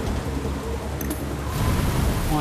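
Steady rain hisses through a thunderstorm. A low rumble builds toward the end under the broad wash of noise.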